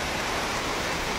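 Heavy rain pours on a hiking trail at Bukit Dinding via Mini Tahan in Malaysia, a dense, steady hiss that runs unbroken throughout with no voices.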